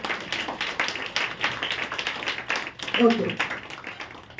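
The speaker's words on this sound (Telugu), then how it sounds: "మీకు మీరు చప్పట్లు కొట్టుకోండి సార్" A church congregation claps in a quick, uneven burst of many hands, clearly heard with someone talking over it.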